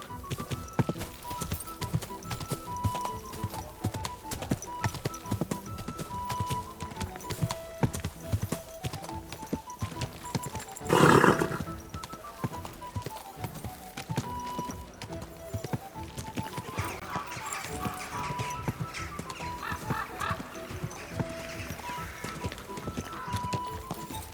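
Horse hooves clip-clop steadily throughout a medieval town scene in the video game Kingdom Come: Deliverance 2, with a brief snort or whinny near the middle over a busy bed of background ambience and faint voices.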